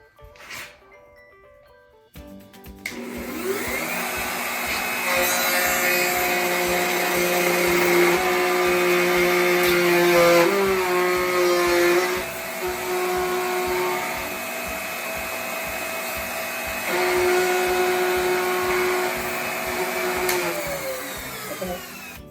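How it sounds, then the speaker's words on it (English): A power tool cuts a dado in wood for the leg of a Maloof-inspired rocking chair: a loud, steady motor whine kicks in after a short quiet lead-in and holds with slight pitch dips as the cut progresses. "All right, ready to cut the dado."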